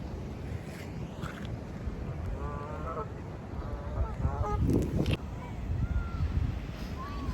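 Goose honks carry across the water at Chadwick Dam in Stalybridge, a series of short nasal calls in bursts over steady wind and ambient rumble, with people talking nearby.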